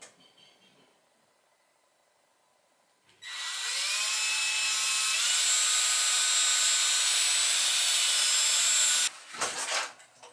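A power drill bores into the wooden hull of a handmade toy boat, running steadily for several seconds close up after a quiet start, then stopping with a brief clatter.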